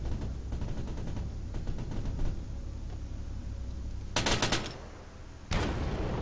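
Video game gunfire aimed at infantry, a steady machine-gun rattle throughout, with sharp, louder bursts of shots toward the end, close and continuous.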